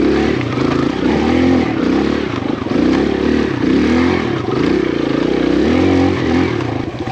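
The lightest four-stroke, full-sized-wheel dirt bike revving loud and close, its engine rising and falling in repeated surges with a rough, buzzy tone and some mechanical clatter.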